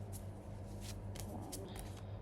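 Tarot cards being shuffled in quick, repeated riffling bursts, close and fairly quiet, over a steady low hum.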